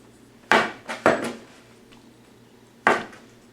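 A small knife cuts sugared puff pastry into strips on a board, with three separate sharp knocks and scrapes of the blade, the first two close together and the last after a pause.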